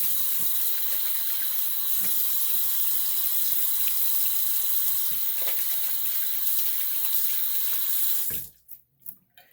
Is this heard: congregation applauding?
no